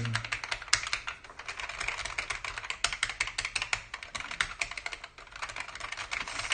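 Rapid, irregular clicking of keys on a vintage Atari 800 keyboard with Stackpole switches, close and crisp, with typing bursts running steadily throughout and no talk.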